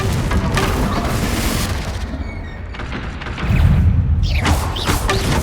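A Bombarda spell explodes in the Hogwarts Legacy video game with a heavy boom and thud amid dense game effects and rumble, with a second low blast surging near the end.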